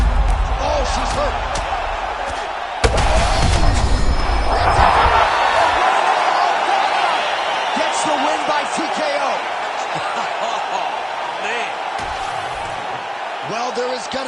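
An arena crowd in an EA UFC fight game roars to cheer a woman fighter's TKO win: a broad swell of cheering that rises after a sharp slam and then holds steady, under continuous commentary.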